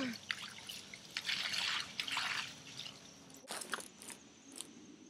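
Water is poured out of a container in uneven gushes and splashes, with bursts of splattering and trickling and a short pause partway through.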